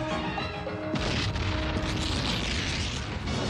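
Cannon fire in a Gulf War tank battle film scene: a loud, heavy blast bursts in about a second in, then a sustained roaring, rumbling wash of noise that fills the rest, with no voices.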